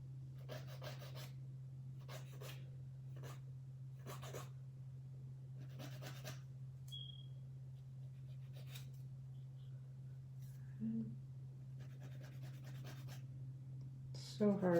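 A nail file shapes fingernails into a coffin shape with soft, quiet scratchy strokes in short bursts, separated by pauses over a steady low background hum.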